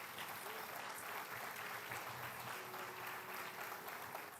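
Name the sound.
church congregation applauding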